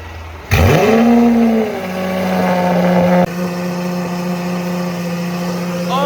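A red McLaren fitted with a Cintani aftermarket exhaust accelerates hard near a Lamborghini chase, its engine sweeping up in pitch with a loud, close roar, then settling into a steady high drone before a gear change and continued strong revving.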